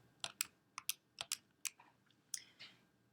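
Several light, quick taps on calculator keys to enter 2/3, about ten crisp clicks in an uneven rhythm, faint and close in a quiet room.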